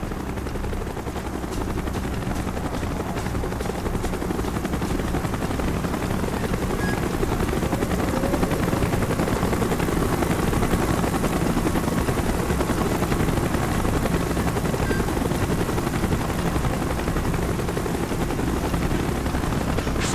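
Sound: helicopter arriving in the video game Call of Duty Black Ops

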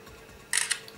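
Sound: LG Optimus G phone camera shutter, voice-triggered shot

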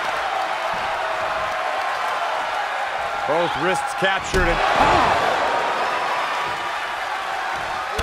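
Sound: crowd cheering in WWE 2K23 video game

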